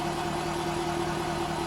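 A steady, rumbling engine drone, deep and continuous, from a 2024 Jaguar F-Type R75 V8 idling with exhaust valves open, throaty, close by and without any talk.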